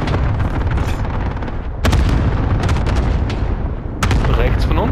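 Gunfire in Call of Duty: Modern Warfare Warzone, with two sharp loud shots cutting through a dense, noisy battle soundscape.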